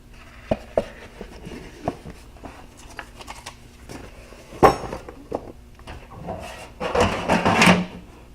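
Workshop drawers slide open and shut, with sharp wooden and metal clunks, a loud bang midway and tools clinking and rattling inside toward the end.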